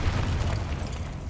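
A Confringo spell explosion in Hogwarts Legacy: a low, rumbling boom that fills the short moment with a steady roar rather than a sharp crack.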